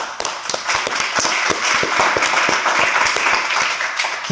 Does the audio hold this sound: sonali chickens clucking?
no